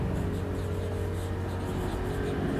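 Pen or marker writing steadily on a board or paper during a Class 10 maths lesson on quadratic equations, a continuous close scratching with a low steady hum underneath and no talk.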